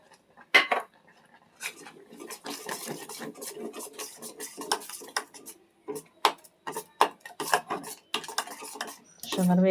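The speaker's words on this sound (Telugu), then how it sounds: "షుగర్ వేసుకొని బాగా మెల్ట్ అయ్యే వరకు, షుగర్ మెల్ట్ అయ్యే వరకు కలుపుకోవాలి" Sugar is stirred into a pan of simmering milk for palkova, with a metal spoon scraping and clinking against the pan in irregular, close bursts separated by near-silent gaps.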